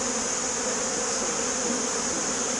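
Honey bees buzz in a dense, steady drone from a crowded hive frame during autumn hive preparation, a close, continuous hum with no breaks or talking.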